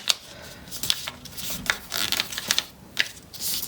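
Paper is folded and creased by hand into a turkey cootie catcher, giving close, dry rubbing and swishing strokes with scattered crisp crinkles in an uneven rhythm, with no talking.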